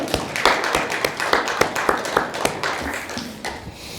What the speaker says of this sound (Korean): 우리 감사의 박수 같이 하십시오